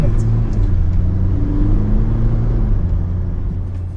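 A 2025 GWM P300 ute accelerates with a steady low engine drone and road rumble heard from inside the cabin, fairly loud and continuous, easing off slightly toward the end.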